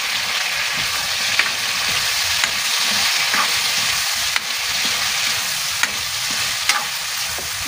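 Tomatoes sizzling and frying in a hot pan while being stirred, a steady loud crackle punctuated by several sharp scraping and tapping strokes of the utensil.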